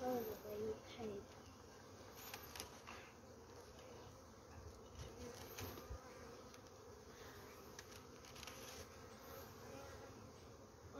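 Wasps buzz steadily up close around a honeybee hive, a dense droning hum with brief louder passes, and faint voices in the background.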